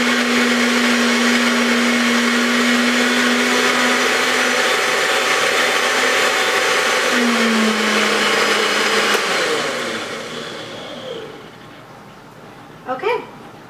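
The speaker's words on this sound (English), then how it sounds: "We're going to blend this up." A kitchen blender whirs loudly and steadily through a batch of butternut squash soup, its motor pitch dipping partway before winding down to a stop, followed by a few faint knocks.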